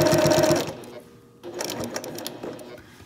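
Sewing machine stitching quilt binding in short bursts, a brisk rapid whir that stops briefly mid-way and then resumes, close and fairly loud, with a voice talking faintly alongside.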